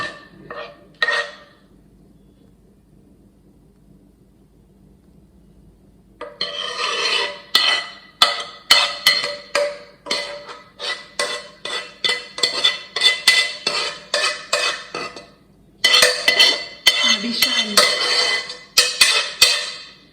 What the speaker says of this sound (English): now I'm just going to top it with the rest of our chili